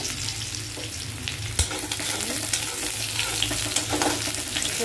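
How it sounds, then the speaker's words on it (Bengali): Onions fry crisp and golden in hot oil, a steady close sizzle with scattered pops, a few scraping stirs and one sharp clack near the start. "আর এদিকে আমার পেঁয়াজ বেরেস্তা হয়ে এলো।"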